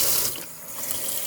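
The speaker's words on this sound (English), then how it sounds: "Some cold water." Cold water runs from a tap into a small plastic tub, a brief, close hissing splash that dips slightly midway and picks up again, with no talk.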